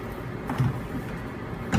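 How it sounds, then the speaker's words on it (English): A door being pushed shut in a kitchen makes a couple of short knocks and a sliding thud, the louder one at the very end, set against quiet room background. "Shut that door, and then I know that this thing is very finicky."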